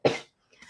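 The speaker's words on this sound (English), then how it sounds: "excuse me, I'm gonna cough." A single sharp cough from someone with a tickle in the throat, loud and close, followed after a short pause by a softer rasping breath or throat sound.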